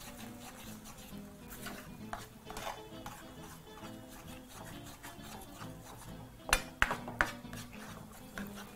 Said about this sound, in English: using a spoon at very low heat, proceed to combine your sauce by mixing through